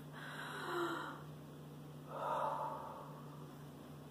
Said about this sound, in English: Can I take a deep breath?